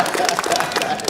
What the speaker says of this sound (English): Let's just round of applause for Tiffany.